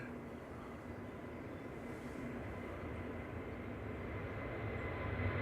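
A Lufthansa airliner departs Manchester Airport in gusty conditions, its jet engines a steady broadband roar that slowly builds in loudness over several seconds, heard from a distance with no talking.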